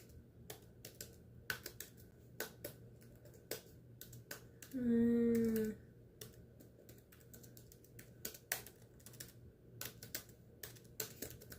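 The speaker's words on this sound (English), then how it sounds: "Aggressively loud typing sounds." Rapid keyboard typing clatters on with sharp, irregular clicks throughout, briefly interrupted by a short warbling electronic tone partway through.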